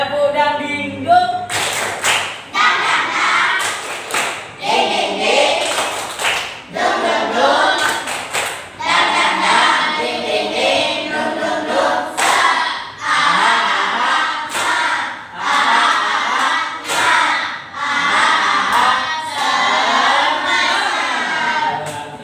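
Children clap the 'tepuk dangdingdung' rhythm in a classroom, a loud run of sharp group claps in patterned bursts with short gaps, close and filling the whole stretch.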